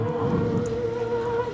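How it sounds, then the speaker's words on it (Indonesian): Rain falls steadily in the front yard of a house in a village, a continuous, even hiss of moderate loudness with no voices. "hujannya kelihatan lagi turun hujan nih"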